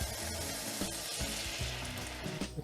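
Stock poured into a hot pan after reducing wine, sizzling and bubbling loudly and steadily with crackles throughout, close and alone without talk.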